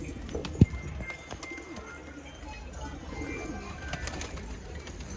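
Pigeons coo softly in a continuous outdoor background on a rooftop, with a single sharp tap near the start.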